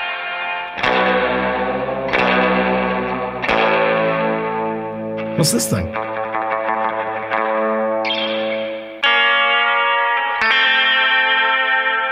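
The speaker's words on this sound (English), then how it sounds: "It's a big reverbed out Telecaster." An electric Telecaster guitar drenched in heavy reverb rings out a series of sustained chords, loud and washy with long decaying tails, and a voice speaks briefly over it.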